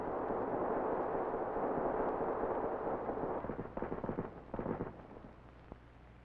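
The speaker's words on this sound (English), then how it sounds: "the entire complement of 48 rounds can be fired in one ripple of 4 seconds duration" An XM-3 rocket launcher on a UH-1B helicopter fires a rapid ripple of rockets, a dense roaring rush of overlapping blasts that thins into a few separate sharp reports before fading.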